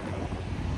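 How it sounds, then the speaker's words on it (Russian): Strong wind buffets the microphone outdoors while a flatbed truck is unloaded, a steady broadband roar with gusty swells lasting the whole moment, close and fairly loud with no voices. "Прям ветер очень сильный."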